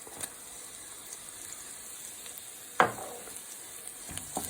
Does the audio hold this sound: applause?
no